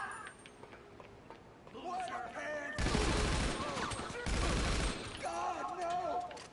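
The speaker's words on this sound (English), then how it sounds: "A Tommy gun." Tommy gun fire in GTA Online comes in two loud, sustained bursts of rapid shots amid game noise, with a voice talking before and after.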